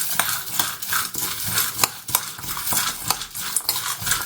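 Cumin seeds and curry leaves are stirred in a hot pan with a metal spoon, giving rhythmic scraping and clinking strokes over a faint sizzle, close and fairly loud, with no talking.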